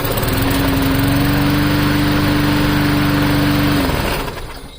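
A lawn mower engine with a cheap, non-adjustable carburetor runs steadily and loudly with a constant hum, then cuts out near the end as the sound fades.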